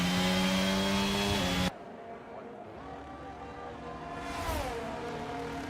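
An F1-style race car in a Mexico racing video game holds a loud, steady engine drone that cuts off abruptly, then a quieter engine whine gradually rises in pitch and volume.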